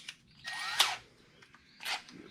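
A power drill with a quarter-inch bit whirs in short bursts, two quick spins separated by a pause, close and fairly quiet, drilling a Can-Am Maverick X3 fender flare.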